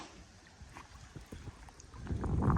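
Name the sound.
gusty wind blowing during fishing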